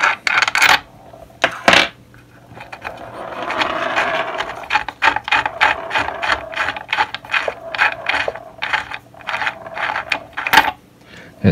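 A ratchet wrench loosening the mounting bolts on a hoverboard motor, rapid metallic clicking in bursts with short pauses and clunks between strokes, close and loud with no talking.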